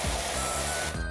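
A broad, steady hiss of an ultra-wide pressure washer spray in PowerWash Simulator runs loud and continuous under a low hum throughout.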